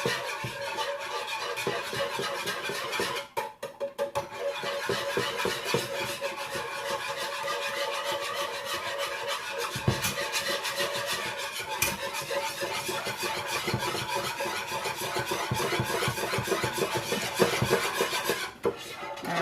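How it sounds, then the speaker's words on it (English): A metal whisk scrapes and stirs steadily through mac and cheese sauce in a cooking pot, a close, continuous rhythmic scraping and clinking with no talking. "Now we'll just start whisking this."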